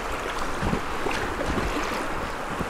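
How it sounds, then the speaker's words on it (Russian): Rushing waves and churning rapids on the Kitoy river during packraft rafting, a constant loud roar of water with wind buffeting the microphone and no talking. "О, уже волны оттуда идут."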